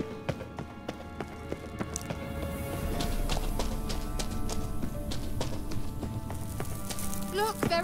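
Hooves of Kelpie, a horse in The Witcher 3, gallop over a steady clatter of in-game ambience, rapid and moderately close, with other game sounds mixed in.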